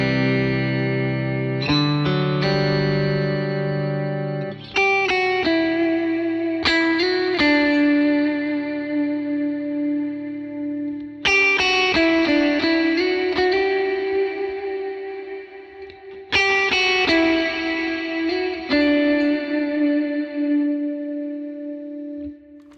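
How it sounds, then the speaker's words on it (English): Electric guitar through an Axe-FX III modeler with an Eventide Black Hole reverb emulation, sustained chords and single notes blooming into huge washy trails that hang between phrases, loud and spacious. "I've really kind of been into their emulation of an Eventide black hole"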